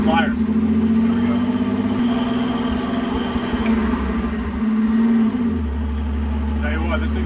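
An antique Plymouth with a rebuilt engine on a shakedown drive, its low steady engine drone loud and close, with the note shifting as it changes speed partway through.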